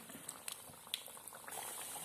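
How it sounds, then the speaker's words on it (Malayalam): Coconut biscuits fry in oil over a medium flame, giving a quiet, continuous bubbling sizzle with a few small crackles and pops. "നമുക്കിതൊന്ന് ഫ്രൈ ചെയ്ത് നല്ല പൊരിച്ചെടുക്കണം. മീഡിയം ഫ്ലെയിമിൽ ഇട്ടിട്ടാണ് പൊരിക്കാൻ."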